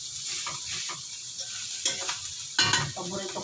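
A spoon stirs and scrapes sinangag, garlic fried rice, against the bottom of a hot pan, giving steady sizzling with irregular scraping bursts that grow louder near the end, close and with no talk.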